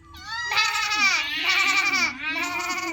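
A high, quavering voice imitates a lamb's bleat, two wavering 'maa' cries in quick succession, loud and close.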